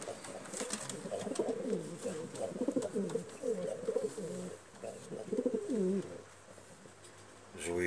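Pigeons coo in repeated rolling phrases close by, moderately loud, with faint background noise and a quieter stretch near the end.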